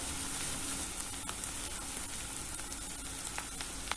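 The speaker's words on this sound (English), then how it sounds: "Add in the onion. Cook this for a couple of minutes or until it turns light pink in color." Chopped onion sizzles steadily in hot oil in a pan, a dense, even crackle that runs without a break the whole time, close and fairly loud, with no talk.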